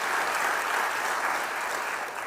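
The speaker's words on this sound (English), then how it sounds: "Let's give them a round of applause, please" An audience at a county mayor's budget presentation claps steadily, a dense, even round of applause at a moderate level from start to finish with no talk.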